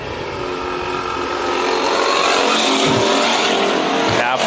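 Race cars roar around the Bakersfield Speedway oval during a heat race, a loud, steady engine drone that swells slightly toward the end as the cars close in, with a voice talking over the noise.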